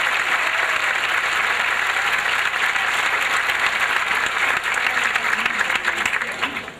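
A crowd at the Hampton Bays High School class of 2005 graduation applauds warmly to welcome speaker Fred Seal, sustained dense clapping that fades near the end, with a brief voice.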